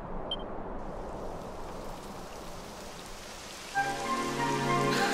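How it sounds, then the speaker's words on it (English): Rain falls in the video game Dragon Quest XI S: Definitive Edition, a soft steady patter that swells slightly before a musical tone enters over it near the end. "It would have to go and start raining, wouldn't it?"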